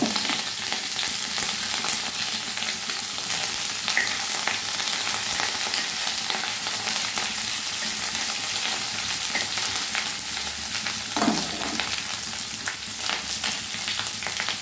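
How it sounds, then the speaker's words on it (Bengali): Mixed vegetables sizzle steadily in a pan with grated ginger and spices for a Bengali labra, a constant frying hiss that holds for the whole stretch, with a brief stirring scrape near the end and no talk. "সবজির সঙ্গে আমি ভালোভাবে কষে নেব"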